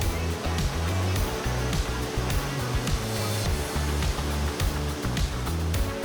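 Naena Falls (Jishin no Taki) in Myoko, Niigata, a powerful waterfall roaring from close range as a dense, constant rush of water with heavy low rumble, broken by bursts of wind noise, no speech.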